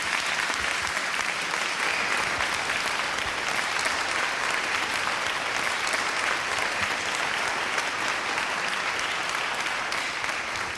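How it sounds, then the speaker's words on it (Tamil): A packed hall claps continuously as a spiritual teacher is welcomed to the stage, a loud, steady roar of many hands that holds at full strength for about ten seconds without a break. "அறவியல் மெஞ்ஞானி நம் குருஜி ஆசான்ஜி அவர்களை அரங்கம் நிறைந்த கைத்தட்டலோடு"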